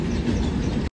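The 22659 Yog Nagari Rishikesh Express moves on past Hazrat Nizamuddin station in Delhi, a loud, steady, close rumble of wheels and carriages that stops abruptly.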